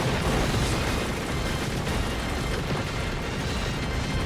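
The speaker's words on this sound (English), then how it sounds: "Oh, there's so much happening. There's so much explosion." Dense, continuous explosions from the ANTONBLAST video game, a loud roaring wash of blasts and booms that fills several seconds without pause.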